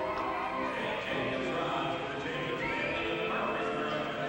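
A horse at a horse show neighs in a loud, close, sustained whinny with a wavering tone, over a busy background of ambient noise.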